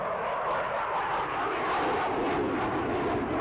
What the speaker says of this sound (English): This is a single-seat swing roll fighter.